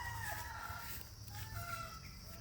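Sweater breed pullet chickens clucking steadily and fairly close, with soft overlapping calls over a low continuous hum and no talking.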